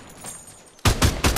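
Gunfire in Fortnite Battle Royale on PS5: after a quiet moment, a loud burst of close shots erupts in quick succession, a rapid cluster of sharp cracks filling the last half second.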